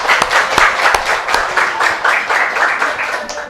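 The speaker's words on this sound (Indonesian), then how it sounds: "Tepuk tangan untuk Firza dulu." Classroom applause for a student named Firza after she stands an egg upright on sugar: dense, steady clapping from a group of children, close and continuous throughout with a few sharper individual claps standing out.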